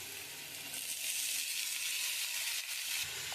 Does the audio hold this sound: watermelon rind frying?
yes